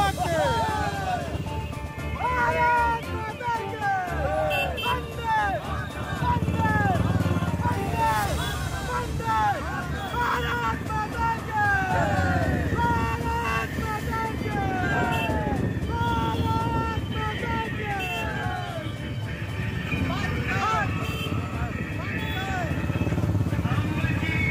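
Motorcycles at a bike rally rumble and rev in a continuous mass of engine noise, with horns or whistles chirping repeatedly and people talking and shouting over the crowd throughout.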